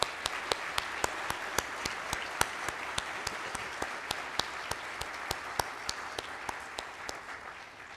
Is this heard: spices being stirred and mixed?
no